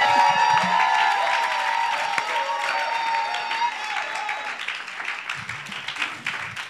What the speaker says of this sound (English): shout, clap your hands